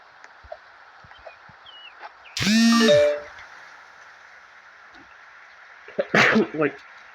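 A single sharp sneeze from someone with dust in the nose, loud and close, followed a few seconds later by a short burst of speech, otherwise quiet room hum.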